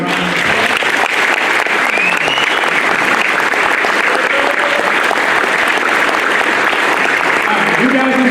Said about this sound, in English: Let's give these people a good round of applause.